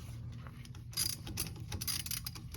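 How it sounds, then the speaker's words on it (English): A 3/8 drive ratchet on an extension with a 6mm Allen head turns a bolt while fitting a driveline to a 2020 Yamaha YXZ-1000R, a quiet, close run of rapid ratcheting clicks with no talking. "3/8 drive ratchet with an extension and a 6mm Allen head"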